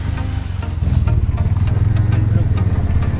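A new auto rickshaw's engine idles with a steady low throb, close and continuous, with some faint background voices.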